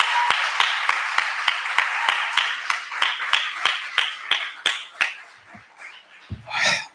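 Hands clap in a steady, evenly spaced rhythm at a housing-rights resistance rally, sharp individual claps that thin out and grow uneven toward the end, followed by a brief louder burst.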